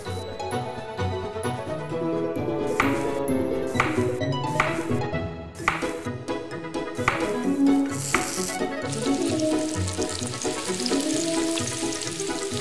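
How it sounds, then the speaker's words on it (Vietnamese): Unmarinated chicken frying in a pan, a continuous sizzle under busy kitchen clatter with scattered metallic pings and taps of utensils. "Bây giờ đơn giản mà chỉ cần làm gà chiên thôi."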